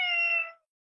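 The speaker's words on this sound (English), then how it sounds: "Who says meow? Is the kitty cat?" One cat gives a single short, clear meow up close, lasting about half a second before silence.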